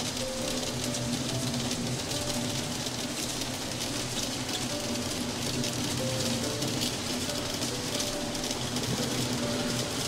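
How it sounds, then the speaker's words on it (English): Heavy, loud rain pours steadily in the video game Until Then, a dense unbroken hiss with a low rumbling bed underneath, drowning out everything else with no voices present. "Is this rain supposed to be this loud?"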